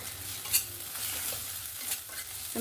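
A spicy tomato-paste masala for a capsicum gravy is stirred and fried in a pan, its steady sizzle broken by a few sharp spoon scrapes, close and continuous with no voices.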